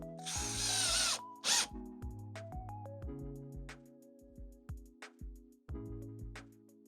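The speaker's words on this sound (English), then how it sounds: "Just need to get a couple of screws in." Power drill driving screws into wooden pallet timber, short bursts of whirring motor with rising pitch and brief high grinding, separated by pauses and clicks, close and alone.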